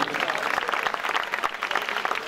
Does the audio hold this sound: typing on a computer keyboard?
no